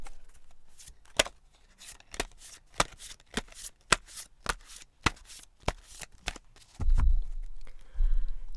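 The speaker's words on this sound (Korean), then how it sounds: "셔플 들어갑니다." Tarot cards being shuffled by hand: a run of crisp, evenly spaced riffling snaps up close, then a few soft thuds toward the end as the deck is squared and handled, with no talking.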